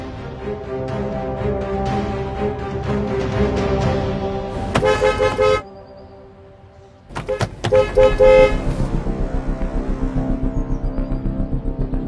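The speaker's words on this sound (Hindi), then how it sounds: "रास्ते में हैवी ट्रैफिक जाम लगा हुआ था।" Car horns honk in a heavy traffic jam over the rumble of road vehicles, with long blaring horn blasts and then a run of rapid repeated honks, loud and close.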